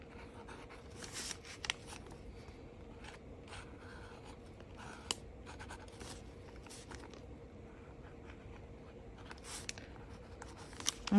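Pencil scratching across paper in continuous quiet strokes, with short bursts of scribbling spread through the stretch, close and faint with no talk.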